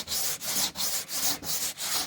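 Birch cutting board being hand-sanded with 150 grit sandpaper: brisk, even back-and-forth strokes, close and fairly loud, about six rasping passes with short gaps between them.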